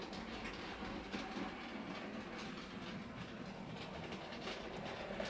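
A DCC-fitted model railway train runs through a tunnel, giving a quiet, steady rolling rumble with faint rhythmic clicking of wheels over track joints, close by and without talk.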